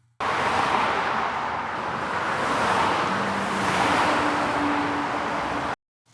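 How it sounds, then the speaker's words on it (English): Steady wash of road traffic from cars passing by, a continuous broadband roar with faint engine hum underneath, swelling gently as vehicles go past, with no talk over it. "there's a bunch of cars passing by"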